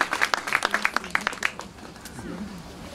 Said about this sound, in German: Ich finde, das ist ein Applaus wert.